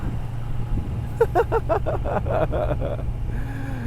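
A Moto Guzzi V7 Sport motorcycle rolls down the road with a steady low engine drone and wind rumble, close and continuous, while a rider's voice briefly speaks over it in the middle.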